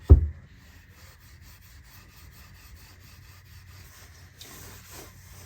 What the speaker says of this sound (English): I'm just gonna use some really fine steel wool to gently try to take off some of that oxidation or residue, whatever's on there